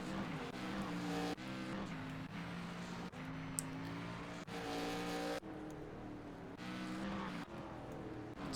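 Race cars of an ARCA field at the Chicago Street course in the iRacing simulator, engines droning and shifting pitch as they pass, with cuts between cars; steady and moderate, no talk.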